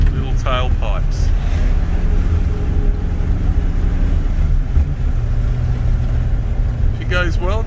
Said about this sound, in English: you just listen to that beautiful burble out those little tailpipes.